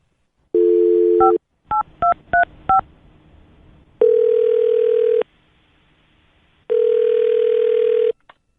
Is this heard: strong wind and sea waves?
no